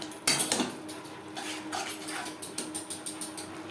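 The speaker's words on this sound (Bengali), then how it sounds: "মশলা কষাবো মিডিয়াম ফ্লেমে।" Masala for a dhaba-style mutton curry being stirred in a pan over medium flame with ginger and green chilli paste, heard as repeated close metal scraping and clinking of a spatula against the pan, with a faint background hiss.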